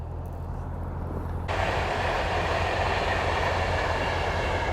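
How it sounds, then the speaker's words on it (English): A train passes close by a canal in England, between Whilton and Weedon Bec, with a loud, continuous rumble and roar that suddenly swells louder partway through. "That feeling when a train goes past."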